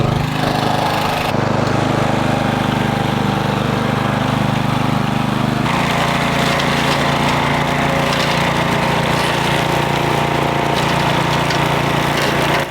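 A big self-propelled brush mower clearing land runs steadily and loud, its engine drone continuous and close with a shift in tone partway through as it moves along.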